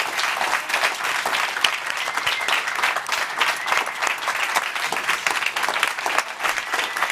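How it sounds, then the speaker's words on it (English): Steady applause from an evening audience, dense even clapping that fills the space throughout, close and sustained with no talk over it. "Let's give them another round of applause."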